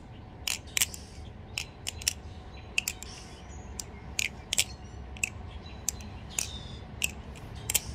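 Butterfly knife, a Balisong Glidr clone, being flipped, giving a run of sharp ringy metallic clicks and clacks in irregular bursts, close and crisp over a faint background hiss.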